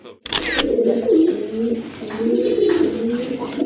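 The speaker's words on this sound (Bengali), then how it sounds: "খুবই সুন্দর কোয়ালিটিফুল এক জোড়া রাজগোল্লা কবুতর দেখতে পাচ্ছেন" A pair of Rajgolla pigeons in red indigo colour cooing close by, with low rolling coos repeating steadily after a sharp click at the start; no talk.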